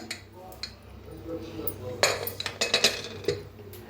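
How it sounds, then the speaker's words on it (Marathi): A pressure cooker lid being removed after the whistles, giving a cluster of close metallic clanks and clinks of lid against pot over quiet kitchen hum. "तर झाकण काढून बघूया आपण"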